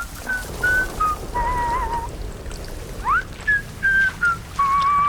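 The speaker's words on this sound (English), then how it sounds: "I hear the whistle, but I don't see him." A person whistles in short tonal phrases, some steady and some sliding upward, repeated with gaps between them over a faint outdoor background.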